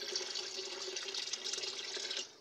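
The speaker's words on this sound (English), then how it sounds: "We're going to add enough water to this." Water pours steadily into a container of fermenting chicken feed, a continuous hissing splash that runs evenly and then cuts off near the end.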